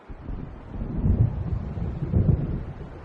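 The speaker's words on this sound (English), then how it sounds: "It seems there's a storm coming." Low rolling thunder from a storm building over the water in the video game Alan Wake Remastered rumbles in two swelling waves, heavy and deep, with wind noise underneath and no voices.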